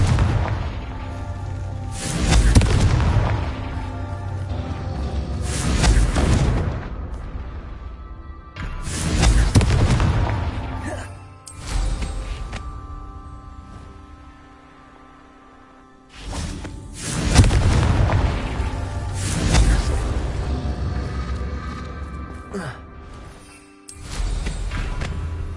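Repeated Confringo blasting-spell explosions in Hogwarts Legacy on PS5, each a loud booming burst with a whooshing tail, arriving in clusters separated by brief quieter gaps.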